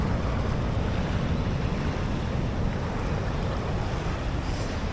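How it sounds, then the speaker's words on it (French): Heavy ocean swell surging against a Tahiti shoreline with protected dwellings, a steady loud wash of surf and wind noise filling the whole stretch without any voices. "les habitations sont plutôt protégées pour que la plus grosse partie des vagues puisse se casser dessus"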